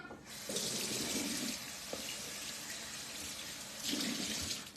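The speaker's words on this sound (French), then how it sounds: "Un petit coup sous l'eau, juste avant de vous en servir." Running tap water rinsing a cake mould at a kitchen sink, a continuous splashing flow that swells louder as the mould passes under the stream, then eases and surges again.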